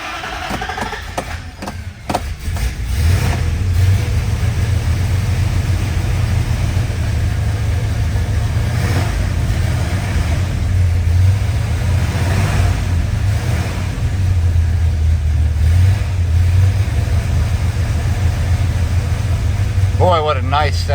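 A big-block engine in a 1967 Plymouth Satellite fires up after a couple of seconds, then settles into a loud, deep, steady rumble, swelling with occasional revs and running continuously to the end.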